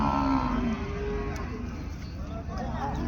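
Cattle and bulls tethered at the Karungalpalayam livestock market in Erode, with a low drawn-out moo early on, set against a steady bustle of crowd noise and distant voices.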